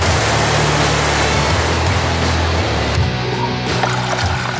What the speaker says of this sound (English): Welcome to Class 3 water. It moves a bit faster, the water is a little wider, and the sound, well, it's definitely a little more intimidating.